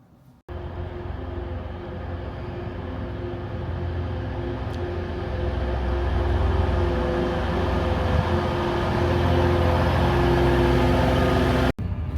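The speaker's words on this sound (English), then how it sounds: "We're now on our second train of the day." Steady low rumble of a moving train carriage, a continuous droning hum with rolling wheel noise that grows slightly louder over time.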